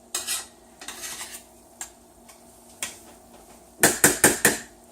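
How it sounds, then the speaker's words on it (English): A spoon scrapes mushroom sauce off into a pan with close, crisp metallic clinks and taps spread out, then a quick run of four louder knocks at the end. "Getting everything down into the pan. Making sure we get all of the sauce off the back of the spoon."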